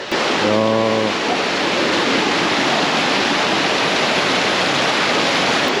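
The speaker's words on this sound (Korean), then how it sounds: "여기는 놀이터에서 물 나오네. 물도 뿌려줘. 이야. 이야, 물한번 시원하게 나오네." Water sprays from a playground fountain in Madrid, Spain, a loud steady broadband hiss that continues throughout, with a brief low tonal hum near the start.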